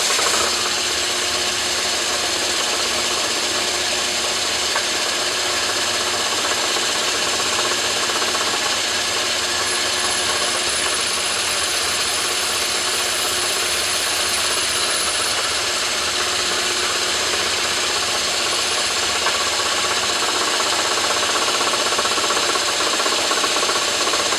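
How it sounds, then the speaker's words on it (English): A power drill with a number 21 bit drills a radial engine valve housing, whirring continuously at a steady pitch, a constant mechanical drone with no talking. "I'm just going to drill and tap this with a number 21 drill bit."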